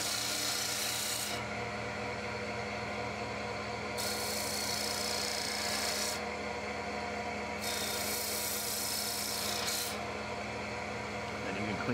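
A woodturning gouge cuts spinning wood on a lathe, a continuous close rasping scrape with a low motor hum underneath, steady throughout with the cut changing slightly in texture.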